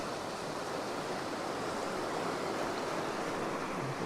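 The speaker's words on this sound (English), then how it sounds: "Let's get these waves as they rush in." Ocean waves rushing in over rocks and a rock pool along the shore, a continuous, broad, steady roar of surf, moderately distant and unbroken, with no voices.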